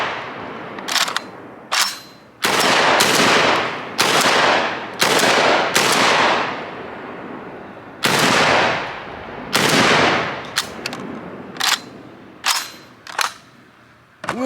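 A JTS AK 12 gauge shotgun fires through a 10-round magazine of hot handloads, about ten loud, close blasts at an uneven pace, each with a sharp crack and echoing tail, no talk.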